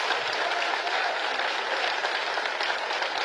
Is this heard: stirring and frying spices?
no